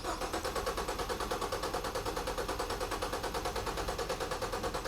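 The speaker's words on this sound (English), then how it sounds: "let's have Jimmy crank it over and see what we get" A car engine cranks over on its starter with the fuel relay pulled and the gas pedal held to the floor, a steady loud rhythmic chugging of even pulses throughout with no talking.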